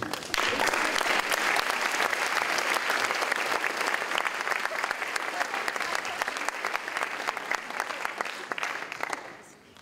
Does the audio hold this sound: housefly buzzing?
no